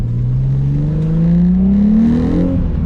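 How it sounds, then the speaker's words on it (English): A Nissan 350Z fitted with a Kinetix Velocity intake manifold, warmed up to nearly full operating temperature, revs up close by in one smooth, loud climb in pitch, with no talking over it. "So I'm gonna let the car kind of warm up now."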